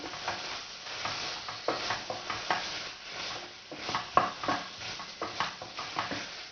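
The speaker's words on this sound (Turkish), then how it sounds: "Kuru fasulyemi alayım. Ve şimdi bir karıştıracağım." Dried beans being stirred into tomato paste in a pot, a steady run of scraping, wet stirring strokes with a faint sizzle underneath, close and moderately loud with no talking.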